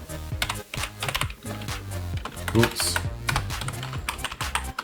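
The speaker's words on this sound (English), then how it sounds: "Can't blame my sticky keyboard for that typo." Quick close taps on a sticky computer keyboard, a steady run of keystrokes throughout with a brief spoken exclamation over them.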